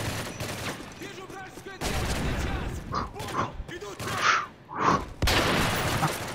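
Rapid bursts of video game gunfire crackle in quick volleys alongside mechanical clicks and creaks, fairly close and dense, with brief gaps between the bursts.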